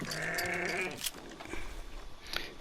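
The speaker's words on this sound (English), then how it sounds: "Get some sheep." Sheep bleat on a ranch in the video game Red Dead Online, a wavering call up close followed by softer farm-animal noises and a few clicks, with no talk.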